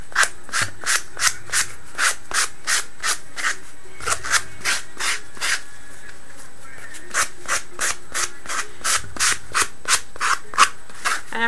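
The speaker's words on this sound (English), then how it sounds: "I'm sanding it very roughly" An everyday hardware-store sanding block scrapes roughly back and forth on a miniature toilet model in quick rhythmic strokes, close and loud, pausing briefly between bursts of rubbing.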